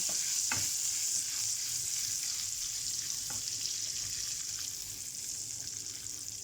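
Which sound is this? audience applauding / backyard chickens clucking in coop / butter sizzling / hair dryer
butter sizzling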